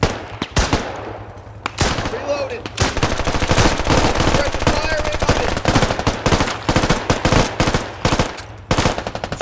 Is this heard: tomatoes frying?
no